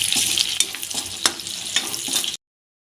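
Green beans and finely chopped green chillies sizzle steadily in a pan for chicken fried rice, with a few sharp stirring clicks over the frying for about two and a half seconds before the sound cuts off.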